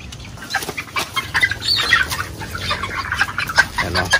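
Brahma and Hubbard chickens on a farm cluck and squawk close by in irregular, overlapping calls with no talk.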